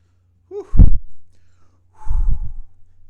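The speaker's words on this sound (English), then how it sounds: "A little bit heavy breathing there." Heavy breathing from a man watching a Man City football match, two bursts of breath roughly a second apart, close and loud with nothing else around them.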